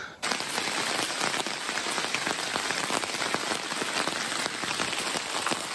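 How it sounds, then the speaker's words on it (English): Steady rain patters on a tent and the ground nearby at a canoe campsite in Temagami, a dense, continuous hiss of drops with scattered sharper taps, no voices. "Guess what? It's raining again."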